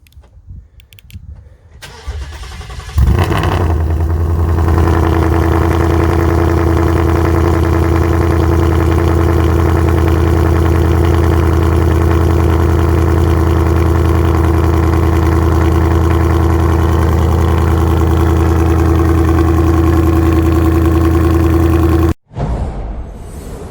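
A vehicle engine cold-starts after a brief crank, catches loudly and settles into a steady, loud, even idle that runs for nearly twenty seconds before a brief cut near the end.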